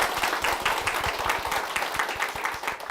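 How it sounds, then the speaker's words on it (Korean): A church congregation claps to welcome an elder to the stage. The applause is dense and steady, with many hands clapping together at a moderate level throughout. "박수로 모시겠습니다."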